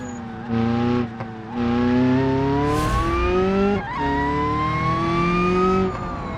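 A modified delivery truck's engine revs hard through repeated accelerations, rising in pitch with each pull, brief gear-change dips between them, loud and close from inside the cab.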